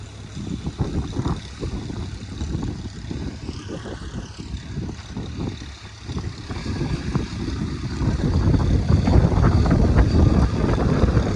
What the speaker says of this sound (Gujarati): જુઓ અત્યારે પવન કેટલો જોરદાર ચાલી રહ્યો છે